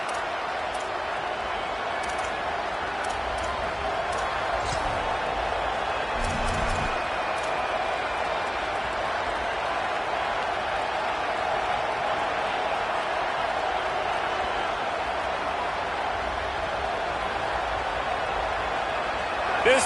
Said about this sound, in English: This dog crowd is off the leash, and they are coming after them, bringing noise on third down.